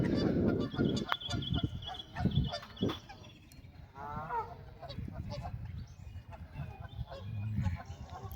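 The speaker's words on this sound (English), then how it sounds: "some very, very pretty little goosies" Geese honk and call beside a pond near an athletics club, several loud outdoor calls mixed with other bird and animal noise, a few close honks standing out over a busy background.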